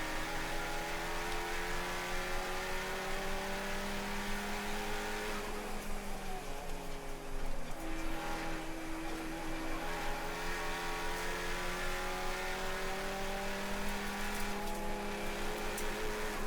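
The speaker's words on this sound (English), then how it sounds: "Under brakes down into turn 1, they get around that group of cars." Race cars, including a BMW sports car, accelerating and braking into turn 1 at Summit Point circuit during a Labor Day race, a loud sustained engine whine whose pitch sweeps down and up as the cars shift and jostle in a close group.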